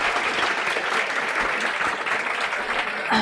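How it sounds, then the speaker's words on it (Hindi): A room full of students claps loudly for themselves, a dense, steady wash of applause from a large audience at a chartered accountancy lecture, continuous and even for several seconds. "मैं चाहती हूँ एक बार आप लोग जोरदार तालियां अपने लिए बजा दें."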